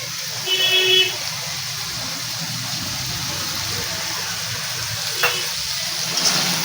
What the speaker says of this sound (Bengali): সবজিও কিন্তু অনেকটা ভাজা ভাজা হয়ে এসছে